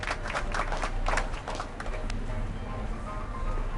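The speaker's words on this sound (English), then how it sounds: "How about a round of applause just for the heck of it?" A short burst of scattered clapping from a small audience, loudest at first and then thinning out into a quieter room.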